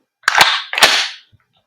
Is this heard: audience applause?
no